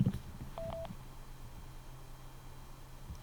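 A Sena 60S motorcycle headset lets out one short electronic beep when its phone button is pressed once, faint and close against a low steady hum, followed by quiet.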